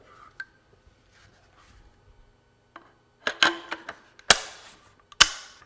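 A rifle's upper and lower receivers being pinned together: a few faint early ticks, then a cluster of sharp metallic clicks and snaps, the last two loudest and close up.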